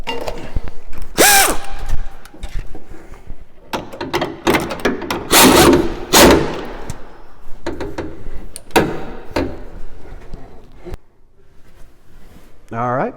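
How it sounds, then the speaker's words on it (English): A ratchet tightens the fastener on a car's windshield wiper arm, giving a few bursts of quick clicking amid other mechanical clatter and handling noise, with a voice speaking over parts of it. "go ahead and tighten the fastener"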